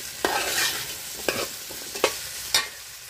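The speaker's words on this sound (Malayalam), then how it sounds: "കുറച്ച് ഉപ്പും കൂടി ഇട്ട് നമുക്കൊന്ന് ഇളക്കാം." Green mango pickle with salt is stirred in a pan, four sharp scraping strokes over a soft background sizzle, close up and with no talking.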